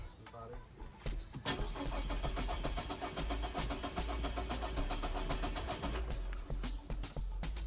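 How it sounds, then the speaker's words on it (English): A wrecked car's engine cranks steadily and healthily on the starter without catching, a loud, continuous churning with low rumble throughout, and voices faintly in the background. "It's quite a healthy crank, but it's not starting."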